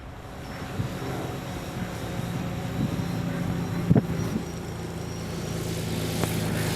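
A Cessna airplane lands on a runway in a slight right-to-left crosswind, its engine a steady drone with propeller hum, a brief thump of touchdown near the middle, and quiet cockpit noise throughout.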